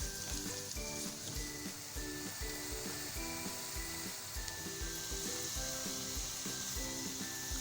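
Onions fry in oil until golden brown, a constant bright sizzle holding steady throughout, heard with a repeating music track and no talking.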